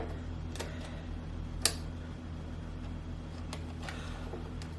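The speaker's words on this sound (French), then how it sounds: "Oh, cette montre, cette horloge, elle m'énerve." A clock ticks loudly and steadily in a quiet room, sharp clicks repeating at an even pace over a low electrical hum, with no talking.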